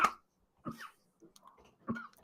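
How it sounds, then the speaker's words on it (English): A man with a nasty cough from illness gives a few short, close coughs and throat-clearing sounds in quick bursts separated by brief silences. "dealing with a nasty cough from the sickness that took him out of last week's show"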